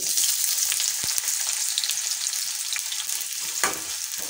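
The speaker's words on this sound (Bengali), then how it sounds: "কড়াতে তেল দিয়ে দিয়েছি, সবার প্রথমে দিয়ে দিচ্ছি পেঁয়াজ কুচি।" Chopped onion frying in hot oil in a wok, a steady close crackling sizzle throughout with a couple of brief clinks from stirring.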